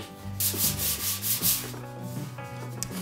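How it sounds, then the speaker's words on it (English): Primed wood is rubbed with 220 grit sandpaper in quick back-and-forth strokes, a close, scratchy rhythmic sanding that carries on steadily for a few seconds. "Now I've got this primed and sanded down"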